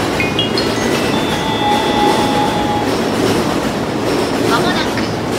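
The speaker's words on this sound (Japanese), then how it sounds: "まもなく2番線を列車が通過いたします。" Train rolling through Ofuna station in Japan, a steady loud rumble with faint rail clatter and brief high squeals, continuous throughout without talk.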